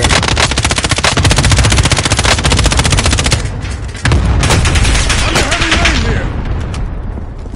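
Dense, loud machine-gun fire in a video game, with rapid continuous bursts and booming explosions from an airstrike mixed in, all close and overwhelming.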